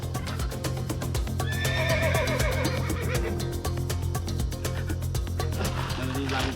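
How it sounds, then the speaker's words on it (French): A Pantanero cattle horse in the Brazilian marshland gives a long, loud whinny over a steady, close rhythm of hooves clip-clopping, with a low background rumble. "Le Pantanero, c'est le cheval idéal pour conduire le bétail."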